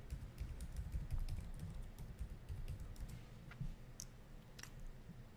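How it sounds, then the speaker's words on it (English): Typing on a computer keyboard while entering a password on a Windows Server machine, rendered as quiet, scattered key clicks over a low background hum, no voices. "So you click next, type in your password"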